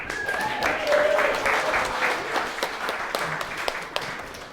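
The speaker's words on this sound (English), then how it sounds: "One more round of applause for Tom." Wedding guests applaud after a speech at a reception, a steady wash of clapping lasting several seconds, with a few voices and cheers mixed in.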